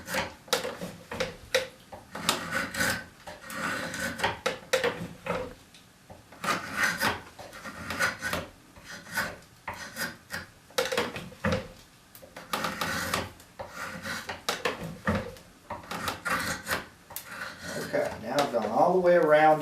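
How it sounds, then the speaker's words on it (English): A drawknife shaves wood from a chair post in repeated rasping strokes, each a short scraping burst followed by a pause, close by, with someone talking between and over the cuts. "with this Drawknife, I can see exactly what's happening down here on my line"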